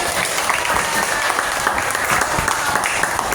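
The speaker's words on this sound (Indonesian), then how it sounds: "Tepuk tangan." Classroom applause during a lesson on a digital interactive board: a group of people clap briskly and continuously, loud and near, without talk.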